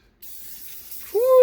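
Brake cleaner sprays from an aerosol can onto a 1964 Malibu's engine, a steady close hiss lasting about a second, ending with a brief rising squeak.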